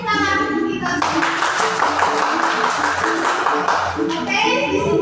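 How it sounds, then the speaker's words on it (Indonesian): Audience clapping in a classroom or school hall during a positive-discipline teacher training session in Indonesia, a steady dense patter of many hands lasting throughout, loud and close, with voices murmuring underneath. "tepuk tangan untuk kita semua"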